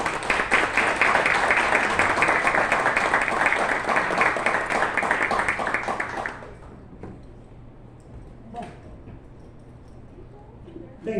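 Audience at a municipal health council meeting applauding, sustained clapping for about six seconds that stops abruptly, followed by quiet room noise and a few faint knocks.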